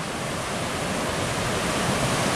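A raging river rushes upstream of Niagara Falls in New York, giving a dense, steady roar of churning water that stays loud and unbroken throughout, with no voices.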